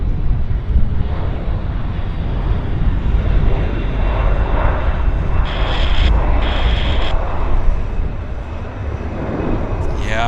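A Boeing 787 Dreamliner takes off from Vancouver Airport with a sustained roar of jet engines, heard from a distance and blurred by wind buffeting.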